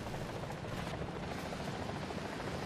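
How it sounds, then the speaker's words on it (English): Two helicopters in the War Thunder combat game, a loud continuous rotor and engine roar filling the whole moment, close and steady with no speech. "Oh, there's 2 helicopters."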